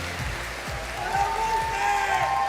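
A crowd at a Pokémon Europe International Championships stage applauds the new EUIC champion, with sustained clapping and cheering under a loud, echoing arena announcer's voice.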